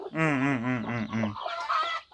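A Siruvidai country mother hen with her chicks on a farm in Namakkal gives a few close, drawn-out throaty clucks, followed by softer higher cheeping and rustling.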